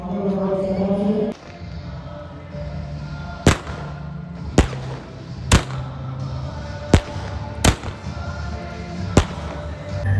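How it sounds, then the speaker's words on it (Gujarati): Sharp firecracker bangs go off one after another at a school annual function, about six distinct bursts spaced a second or so apart over a steady background hum. "હમણાં ફોડવાના છે ફટાકડા આપણે"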